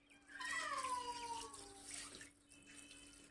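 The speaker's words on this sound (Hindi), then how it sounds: "चलो डालो पानी डालो" Cold water poured to bathe a chicken, splashing and running steadily near the mic while high-pitched animal cries ring out over the first second and a half, then the water continues more quietly.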